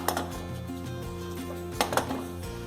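A metal lid clatters onto a cooking pot of tomato onion uppittu (khara bath), giving a few clinks and knocks among faint kitchen clatter.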